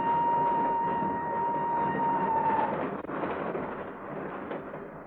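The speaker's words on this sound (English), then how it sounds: "Not until the train started to move from the platform." A train pulling away from a station platform in a radio drama, heard as a steady, loud rumbling roar with a sustained whistle-like tone that fades partway through, continuing as a dense, even mechanical drone.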